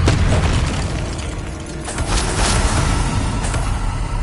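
Repeated blasts from the Confringo fire spell in the Hogwarts Legacy video game, forming a dense, continuous, loud roar of booming explosions with no pause, close and heavy.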